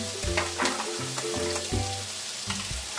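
Sliced carrots and broccoli stalks frying in a hot pan for a ginisang broccoli with mushroom, a steady close sizzle broken by the clatter of stirring.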